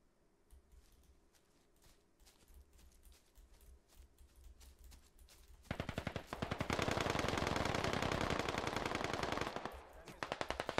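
Gunfire in a British infantry war video game: scattered single shots and short bursts at first, then a loud, sustained burst of rapid machine-gun fire that drowns everything for several seconds before easing back to sporadic shots.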